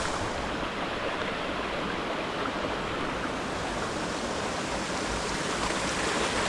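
A mountain stream spilling over a small waterfall in the Knuckles range, low on water, a steady close rushing hiss that never lets up, with no voices.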